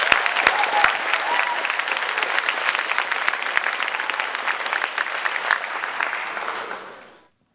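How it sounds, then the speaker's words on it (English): Audience at a 2021 high school graduation ceremony applauds the graduating class, a dense, steady wash of clapping from many hands with a few sharper nearby claps, fading out at the end. "Let's take a moment to applaud the tremendous accomplishments of the class of"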